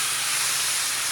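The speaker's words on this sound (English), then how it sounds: "You can hear it sizzle." A brief, steady hiss of chicken sizzling hard in a hot stir-fry pan, loud and close.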